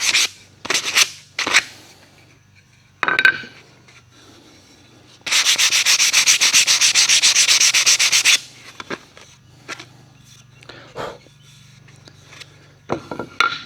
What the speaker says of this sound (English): I already sanded them. I was just touching them a little more.